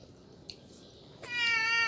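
A cat meows once, a drawn-out, fairly loud tonal call near the end, alone after a faint brief sound and quiet background, with no talking.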